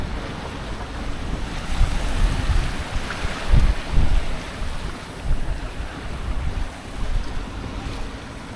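Wind and surf wash steadily around a sailing boat off Euboea, Greece, with gusty microphone buffeting rising and falling in waves over a constant rushing bed of water.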